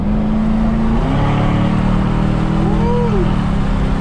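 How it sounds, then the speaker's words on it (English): An aqua blue Chevrolet Camaro SS, fresh from muffler shop work with cutouts removed and an X-pipe installed, roars loudly and continuously nearby, its exhaust drone rising and shifting in pitch as it pulls away. "Now this is how a motherfucking Camaro supposed to sound, and supposed to pull off"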